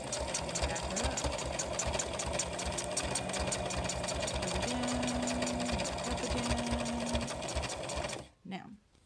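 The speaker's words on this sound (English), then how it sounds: "So we're going to stitch over the loop and back it up." A sewing machine runs a fast, even zigzag stitch over a fabric loop for a placemat rat hammock, its rapid mechanical chatter continuous and close before stopping abruptly near the end.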